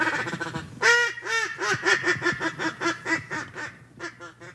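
Ducks and geese call in a marsh on an evening waterfowl hunt, a close, busy run of repeated quacks and honks overlapping in quick succession, with no talking.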